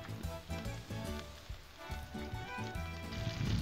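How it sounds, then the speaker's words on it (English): Shrimp shallow frying in oil on a Blackstone griddle, a steady close sizzle running the whole time with soft crackles over a low rumbling background. "we're gonna shallow fry this shrimp and it won't take it long at all"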